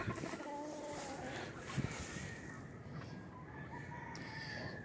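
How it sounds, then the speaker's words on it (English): Chickens call nearby: a rooster-like crow and soft clucking from a five-toed hen over a steady background rumble, with a brief thump partway through. "Here's the original hen."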